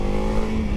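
Honda CRF300L motorcycle engine pulling hard in second gear, a steady buzzing drone heard close for under a second.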